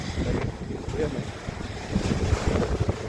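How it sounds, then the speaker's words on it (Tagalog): Strong gusting wind buffets a vehicle climbing a cold mountain road, a steady loud rumble of wind noise battering the microphone with brief voices faintly underneath. "Pakalakas ng hangin."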